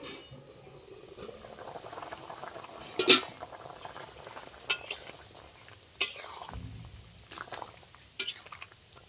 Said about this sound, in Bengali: সব একসাথে ভালো করে সিদ্ধ হওয়ার জন্য আবারও চাপা দিয়ে দেবো।